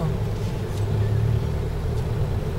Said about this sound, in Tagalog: Lakas ng motor na yun.